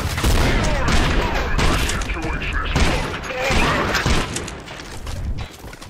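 Dense, continuous gunfire and suppressing fire in the Trepang2 shooter game, overlapping bursts and thumping shots filling the whole stretch at high level, with voices shouting underneath.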